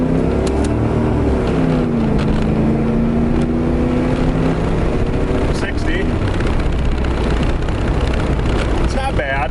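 A Pontiac F-Body Formula with WS6 accelerates hard from a quick stop, manually shifted, its engine rising in pitch through a gear before dropping with the shift, loud and close, with a voice talking over it.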